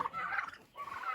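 A farmyard turkey gobbles close by in two quick rattling bursts separated by a short pause, with no voices during the calls.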